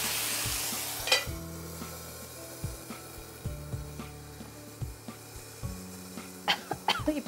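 Hot pan for a Tamil prawn polichal dish crackles and sizzles faintly, with scattered stirring knocks and a few sharper pops, close and fairly quiet.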